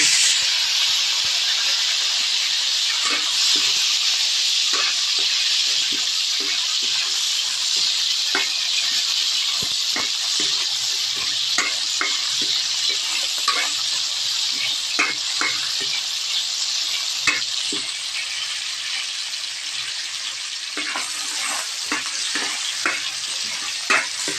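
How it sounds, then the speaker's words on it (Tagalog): Garlic and ginger sauté in hot longganisa drippings for pinakbet, a steady loud sizzle and hiss with scattered crackles and spatters that continue unbroken throughout. "Ginigisa na po natin ng bawang at luya sa pinaglutuan po natin ng longganisa."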